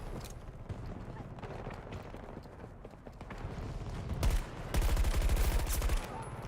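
Gunfire from a higher-recoil weapon in the video game Stranded, scattered shots that grow louder into a heavy, rapid burst near the end, with someone talking over the shooting.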